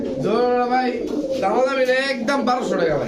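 Soft, throaty cooing of gola pigeons at a pigeon sale rolls on steadily under close, continuous talking, with no clear gaps between calls.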